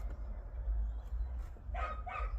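A small dog yaps outdoors, two short high barks late in the clip, rising over a steady low background rumble.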